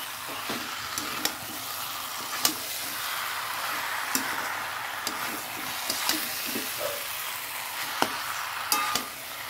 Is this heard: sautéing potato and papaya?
yes